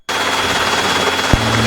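Steady, loud rotor and engine drone of a Robinson helicopter in a hover taxi at an airfield, continuous throughout with a brief thump near the end, no talk.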